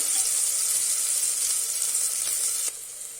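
Onion, ginger and crushed garlic frying in a pan, a steady bright hiss of sizzling oil that drops in level near the end.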